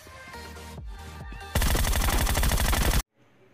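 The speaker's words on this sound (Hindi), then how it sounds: "थोड़ा सा गैस कैन पे भी थोड़ी सी गोलियां चला देता हूँ" A loud, sustained burst of automatic gunfire in the battle-royale shooter PUBG, shots fired at a gas can, rattling steadily for about a second and a half before cutting off abruptly into near silence.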